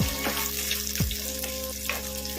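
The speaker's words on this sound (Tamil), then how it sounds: "ஒரு இருபது முப்பது சின்ன வெங்காயம் எடுத்து வச்சுருக்கேன் அதையும் நல்லா இதில் போட்டு வணக்கிடலாம்" Small shallots fry in garlic-scented oil for a curry-leaf and garlic gravy, making a dense continuous sizzle up close with a few sharp clicks from the spoon.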